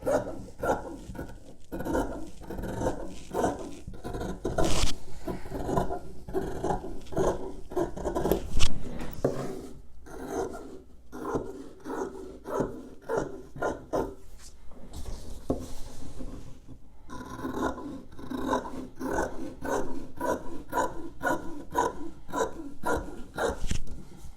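Scissors snipping through a large rectangle of fabric for plain seams, a steady run of repeated close cuts with a short pause midway.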